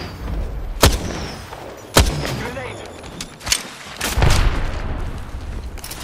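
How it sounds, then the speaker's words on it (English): Gunfire in the shooter game Apex Legends cracks out in several sharp, loud shots spaced a second or so apart, with a rumbling burst near the end, over a busy in-game background with voices. "The enemies are shooting at me."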